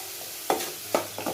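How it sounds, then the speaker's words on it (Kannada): Fresh curry leaves drop into hot oil for a North Karnataka raw mango chutney, giving three short, close sizzling bursts over a quiet pan with no talking. "ಕರಿಬೇವನ್ನ ಇದಕ್ಕೆ ಹಾಕೋತಾ ಇದ್ದೀನಿ"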